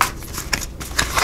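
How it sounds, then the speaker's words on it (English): A deck of oracle cards being shuffled, quick papery riffles and flutters in a few short bursts, close and clear. "That's a shuffle."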